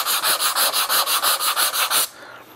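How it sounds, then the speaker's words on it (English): Hand sanding filler on a hexagonal veneered wooden box, about twelve steady rhythmic scratchy strokes, close up and loud, then it stops and goes quiet. "You'll notice what I'm sanding"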